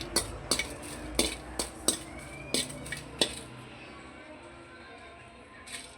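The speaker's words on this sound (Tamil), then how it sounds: "அடுத்ததுங்க வரமிளகாய்ங்க அதே மாதிரி கொஞ்சம் வறுத்துக்கலாம்." Dry red chillies are stirred in a pan, a spoon or spatula knocking against the metal in a quick series of sharp clinks over a faint, low sizzle, then fading to quiet.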